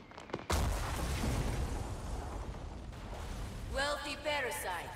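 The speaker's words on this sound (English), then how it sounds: "Fireworks." Fireworks bursting in the Saints Row video game: a sharp bang opens the scene, followed by sustained rumbling explosive noise, with a voice talking briefly near the end.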